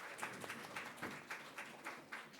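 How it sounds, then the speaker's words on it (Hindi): Audience applause at a university celebration event for the Indian prime minister's birthday, a faint, rhythmic patter of clapping from a modest crowd that keeps going steadily throughout. "तालियों सहित प्रोफेसर दिव्या प्लीज।"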